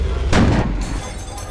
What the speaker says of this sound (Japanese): 敵戦車の砲弾が車体を貫通。